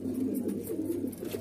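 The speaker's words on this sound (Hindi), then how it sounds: "बाकी आप लोग कबूतर देख लीजिए" White pigeons for sale in Delhi coo softly in a short, repeated low warble, close by and without any talk.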